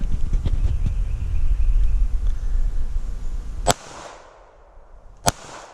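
Two sharp pistol reports from a Smith & Wesson Bodyguard 380 micro compact fired at a target from 5 yards, each a loud single crack with a short ringing tail, separated by about a second and a half, after a stretch of low rumbling background.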